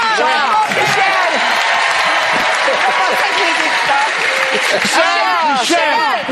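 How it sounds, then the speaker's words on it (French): Studio audience applause for Michel Richard on a French-language Quebec TV show: loud, dense, continuous clapping from a crowd with scattered cheers, holding steady the whole time. "Est-ce qu'on peut applaudir Michel Richard?"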